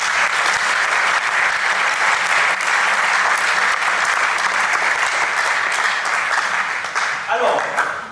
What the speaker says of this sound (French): Est-ce qu'on peut quand même applaudir pour vous tous qui créez le mouvement?